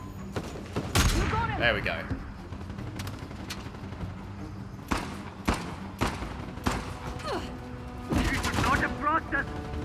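Gunfire in Uncharted: The Lost Legacy, sharp scattered shots and bursts of varied loudness over a busy combat backdrop, with someone speaking briefly among them.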